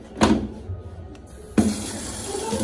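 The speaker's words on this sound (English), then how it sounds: "We will put warm water here." Warm water is poured from a tap into a basin for bathing a baby kitten, two close bursts of splashing flow, the second running on steadily to the end; no one talks.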